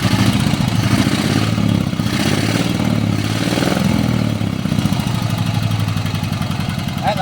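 A custom motorcycle build powered by a Volkswagen engine runs nearby with a loud, steady, throbbing idle and a rattling clatter, holding constant throughout.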